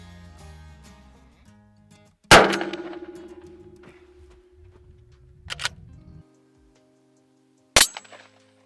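An Adler shotgun fires buckshot in a single loud, sharp report with a ringing metallic tail, followed later by a second abrupt, sharp impact, over a quiet background without speech.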